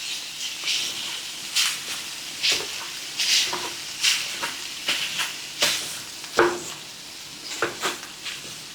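Beef browning in a skillet for a keto bacon cheeseburger dish: steady close sizzle with repeated scraping stirs of the pan at irregular intervals, no talk.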